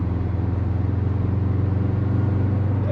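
A Subaru boxer engine gives a steady, deep burbling rumble as the car cruises in third gear at about 3000 RPM and 60 km/h, close and continuous with no voices.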